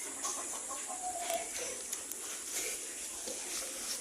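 Chickens and a rooster cluck and chatter in a farmyard, soft, scattered calls under a faint background hiss with a voice talking quietly.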